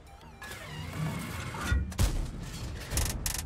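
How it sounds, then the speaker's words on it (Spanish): Game gunfire cracks out in a few sharp bursts over a busy background rumble and effects, with no speech. "Cinco tiros."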